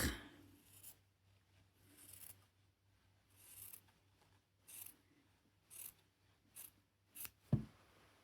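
Scissors snipping fabric while sewing on bias binding, a series of about eight short, crisp cuts spaced roughly a second apart, close and fairly quiet over a low steady hum.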